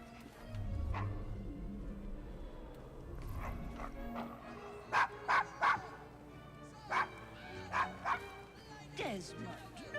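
Dog barking in Assassin's Creed Syndicate, a short run of sharp, loud woofs in quick clusters, with spoken game dialogue and ambient street noise underneath.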